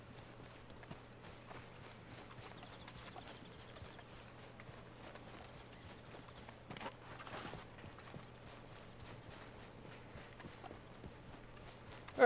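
Horse hooves clip-clopping in Red Dead Redemption II, soft, irregular hoof steps with faint creaks over a low steady hum and quiet game ambience, growing busier midway and alone without talk.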